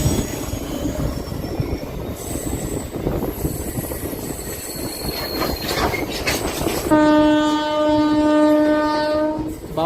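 A MEMU passenger train running between Visakhapatnam and Parvatipuram, heard close with rumbling wheels, squeals and clatter, then a long, loud horn blast holding steady near the end.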